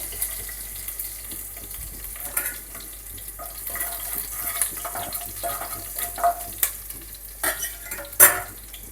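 Garlic cloves and green chillies fry in hot oil for a village-style okra tamarind curry, a steady sizzle punctuated by stirring scrapes and clinks, with a brief running-water splash near the end; no voices.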